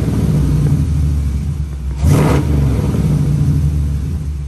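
A 2019 Dodge Durango R/T fitted with a Hellcat supercharger idles steadily up close, then gives one short rev that swells and drops back to idle, with no one talking.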